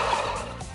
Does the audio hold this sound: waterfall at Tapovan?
no